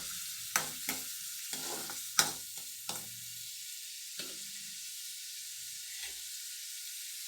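Green chillies drop into hot oil in a pan where raw prawns are cooking. A few sharp clatters and spits come first, then a soft, continuous sizzle settles in close by.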